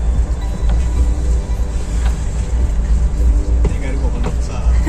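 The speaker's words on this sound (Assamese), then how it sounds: "আমি এতিয়া ট্ৰেইনত" Inside a moving train at night: a loud, constant low rumble and rattle of the carriage, with faint muffled voices now and then.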